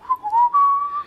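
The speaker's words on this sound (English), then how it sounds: "and he's whistling." A person whistles a short, clear melodic phrase of a few sliding notes that rise and hold, heard close and alone for about a second.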